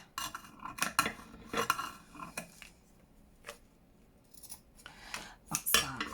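Scissors snipping through paper while making a junk journal envelope, a quick series of close, crisp cuts in irregular bursts with short pauses between them and no talking.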